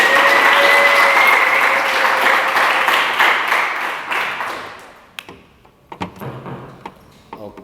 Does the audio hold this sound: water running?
no